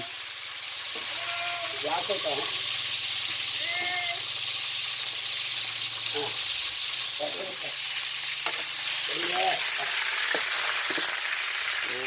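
Insects sizzle and spatter as they fry in hot oil, a steady close crackle running throughout with sharp pops of splattering oil, while voices speak briefly over it.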